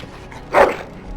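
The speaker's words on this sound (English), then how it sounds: "Bloody dog." A single dog bark in the video game Dragon Age: Origins, one short loud burst rising out of a quiet background.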